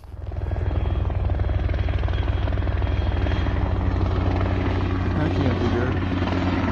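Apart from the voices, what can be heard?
helicopter flying overhead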